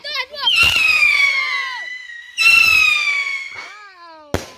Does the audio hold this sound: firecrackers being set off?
yes